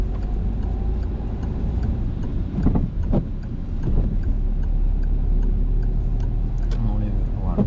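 A car's turn signal ticks in a regular, evenly spaced rhythm inside the cabin during a driving lesson, over a low engine hum, with brief voice sounds in the background.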